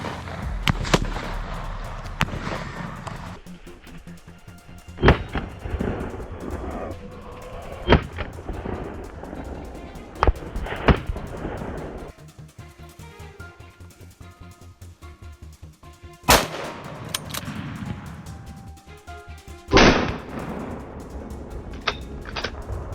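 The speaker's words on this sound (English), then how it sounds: "A burst of gunfire rang out, cutting off its escape." Sharp, loud rifle shots crack out in scattered bursts over about twenty seconds, some single and some clustered, echoing across open snowy ground with quieter gaps between, during a wild boar hunt.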